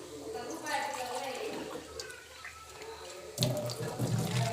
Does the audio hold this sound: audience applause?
no